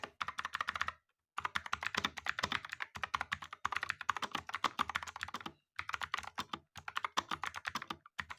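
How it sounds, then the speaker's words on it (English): Rapid clicky typing on a cheap mechanical keyboard with blue switches, bursts of sharp loud keystrokes separated by short pauses, close up and alone. "So now here is a quick sound test of the keyboard"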